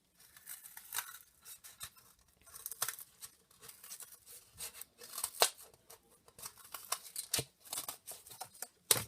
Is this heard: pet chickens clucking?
no